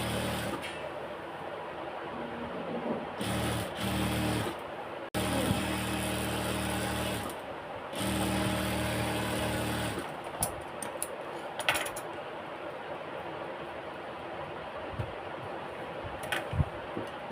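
Sewing machine double-stitching lace onto the hem of pajamas, running in several bursts of rapid mechanical chatter a few seconds long, broken by pauses and small clicks of handling.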